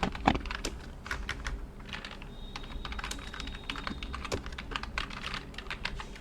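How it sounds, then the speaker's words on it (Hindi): Steady, rapid typing on a computer keyboard during data entry in Excel. The clicks are close and continuous, with a few louder key strikes mixed in, and no voices. "यहाँ पे मैंने एड्रेस टाइप कर दिया"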